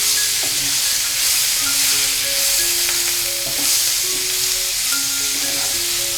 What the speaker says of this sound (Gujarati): તેમાં સમારેલા લીલા મરચાં અને સમારેલા કાચા ટમેટા એડ કરી દઈશું અને તેને સરસ રીતે મિક્સ કરી દઈશું